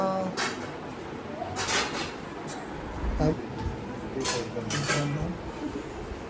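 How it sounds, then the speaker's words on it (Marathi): Metal pots, pans and utensils being scrubbed and washed in a home, giving steady scraping with repeated sharp clinks and clatters, close and continuous under a busy background with voices. "तुम्ही सगळे बघू शकता ही आपल्याला भांडी घासती"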